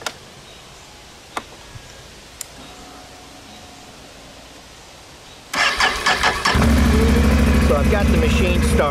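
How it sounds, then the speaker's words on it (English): A Can-Am Outlander 570 XMR ATV engine cranks and fires up after a quiet stretch with a few faint clicks, then settles into a loud, steady idle close by. "So I've got the machine started, it's in park now"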